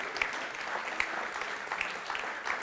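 Sustained clapping from a large seated audience, an even, dense rattle of hands with occasional louder individual claps, heard alone at moderate volume.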